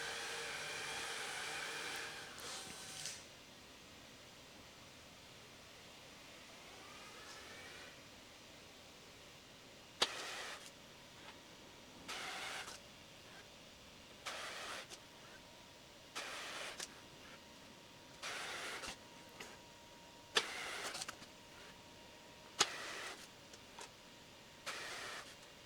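A Maslow CNC router's motors whir in short, repeated bursts with quiet pauses between them as the machine moves through a calibration grid, after a longer motor run at the start.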